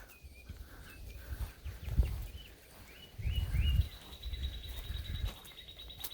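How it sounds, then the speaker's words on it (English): Faint birdsong chirps and whistles drift over a low rumbling outdoor background, with a sustained high tone appearing partway through and no one talking. "Bird sounds."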